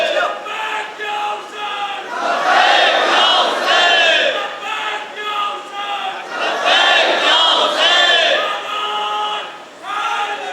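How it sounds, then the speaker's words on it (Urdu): A hall crowd at a religious gathering chants a devotional slogan together, loud rhythmic group shouts in repeated waves with brief dips between phrases. "لبیک یا حسین، سب مل کے بولے."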